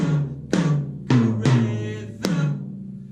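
Drum kit toms beat out a cuckoo rhythm of five sharp hits at low, middle and high pitches, each ringing briefly, close and loud with no talk.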